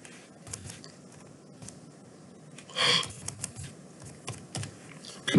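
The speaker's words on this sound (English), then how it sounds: "I'm going to hit the plus key on the keyboard" Keyboard keys pressed on a computer while drawing software is used, a handful of quiet, scattered taps with one louder, sharper press near the middle, recorded close with no talking.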